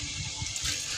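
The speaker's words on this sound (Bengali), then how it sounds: "আলু পেঁয়াজগুলো একটু ধুয়ে নেব।" Running water rinsing potatoes and onions in a kitchen, a brief steady splashing flow heard close and alone.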